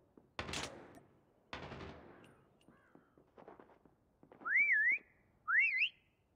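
Two short rising-and-falling whistles near the end, clear and tonal, following a couple of sharp bangs and scattered clicks, in a Call of Duty prop hunt match.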